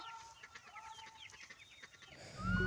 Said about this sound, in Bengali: ওদিকে এই যে খাতার ভিতর হাঁসগুলো ডাকাডাকি করছে